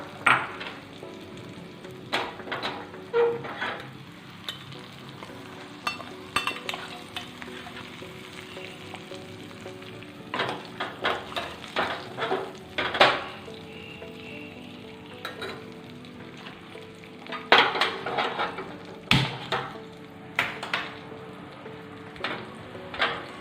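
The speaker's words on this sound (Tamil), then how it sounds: "இதை நல்லா மிக்ஸ் பண்ணி விட்டுக்கலாம்" Ground masala and tomatoes are stirred together in a hot frying pan for rasam, giving a steady oily sizzle broken by repeated scrapes and clatters of the spoon against the pan, with no talking.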